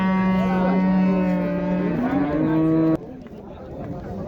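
A cow at a livestock market in Boysun, Surxondaryo, lets out one long, loud, close moo with a rising and falling pitch that lasts about three seconds, then stops, leaving a murmur of crowd noise behind.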